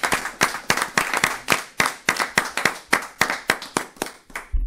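A church congregation claps in steady rhythmic unison to acclaim the Lord, with bright, crisp, evenly spaced claps at a lively beat, loud and close, with no talk over them.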